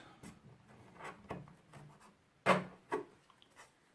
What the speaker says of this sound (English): I just want to cut the edges like this